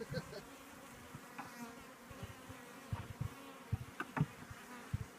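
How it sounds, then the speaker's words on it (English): A bumblebee buzzes at a beehive entrance with low, droning wingbeats. The buzz comes in short, uneven bursts, some close and louder, others faint, over a quiet outdoor background. "a bumblebee flies in the hive."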